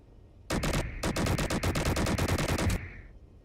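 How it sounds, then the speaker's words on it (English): Big cannons blast in a video game, two quick shots followed by a rapid run of about a dozen heavy, evenly spaced booms, loud and close, ending in a short ringing tail. "That's just a big old giant FU cannon right there."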